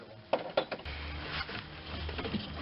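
Screws being worked off an alternator on a Chrysler 2.7L engine in tight quarters, a few sharp metallic clicks and ratcheting scrapes up close over a low hum.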